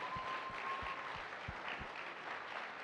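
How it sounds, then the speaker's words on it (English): Audience applause at an annual awards banquet, a continuous mid-level wash of clapping from a room full of guests, punctuated by a few sharper low thuds. "Can we start applauding and never stop"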